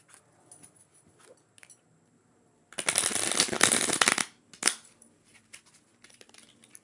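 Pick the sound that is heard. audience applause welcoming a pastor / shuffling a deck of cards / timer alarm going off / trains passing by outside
shuffling a deck of cards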